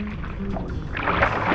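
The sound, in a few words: lake ice breaking and sinking in water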